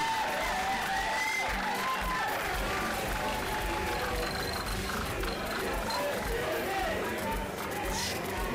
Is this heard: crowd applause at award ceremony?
yes